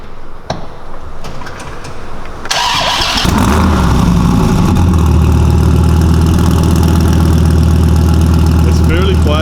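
A Dodge Viper ACR track car cranks and fires up after a brief voice, then settles into a loud, close, steady idle that rumbles on to the end.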